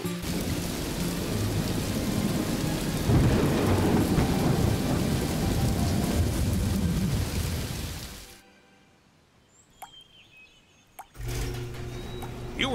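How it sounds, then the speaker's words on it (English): Heavy rain with rolling thunder, loud and steady for about eight seconds, then stopping abruptly into near quiet with a few faint clicks before the downpour sound returns. "Oh, it's raining already."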